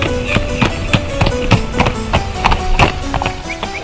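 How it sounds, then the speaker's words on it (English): Horses' hooves beat in a quick, steady clip-clop rhythm as two riders go horse riding, loud and close, with dense overlapping knocks throughout and no talk. "One day, Akbar and Birbal went horse riding."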